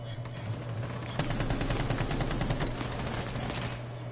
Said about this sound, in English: There's a grenade right now.